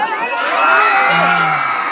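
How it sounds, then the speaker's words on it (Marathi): A large crowd roars and cheers loudly and continuously, a dense wash of voices with some higher shouts rising through. "जोरदार टाळ्या"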